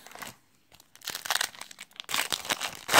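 A Yu-Gi-Oh card pack is torn open, giving crinkly foil rustles and tearing bursts in uneven short spurts, close and fairly quiet, with no speech.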